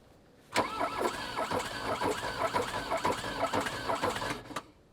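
A Mk1 VW Rabbit engine cranks with rapid rhythmic starter chugging and struggles to catch, fairly close, with no talk over it.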